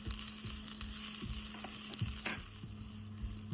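Spices being stirred in a sizzling pan ahead of adding prawns: a continuous frying hiss with repeated scraping and clinking of the spoon against the pan, fairly close and without talk.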